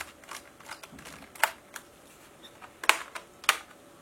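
A laptop's memory compartment cover is pried open with a few sharp plastic clicks and snaps, interspersed with faint handling rustles, close and fairly quiet.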